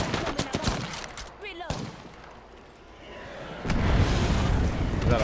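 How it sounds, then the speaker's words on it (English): Airstrike explosions and gunfire in the video game Apex Legends, with dense rapid shots and booming blasts, a brief lull, then a sustained loud rumbling barrage close in the mix. "Oh, my airstrike out there."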